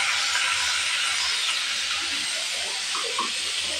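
Onion paste goes into a hot pan for egg bhuna, giving a steady, loud, close sizzling hiss that holds for several seconds with faint bubbling underneath.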